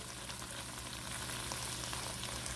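Thick sauce sizzles and bubbles in a hot pan on high heat while it is stirred, a steady close frying hiss with faint scraping, with no voices.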